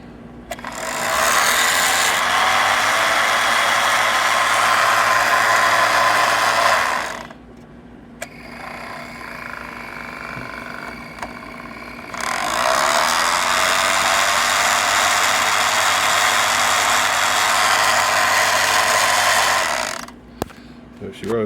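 The twin rebuilt electric motors of a late-1940s Ito 18-inch toy dragon boat, made in Japan, whir loud and steady in two long runs separated by a quiet pause.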